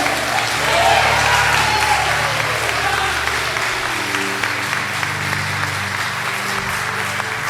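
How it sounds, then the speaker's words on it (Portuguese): A church congregation applauds in a continuous, dense roar that lasts throughout, with low sustained musical tones underneath. "Aplaude esse Deus maravilhoso"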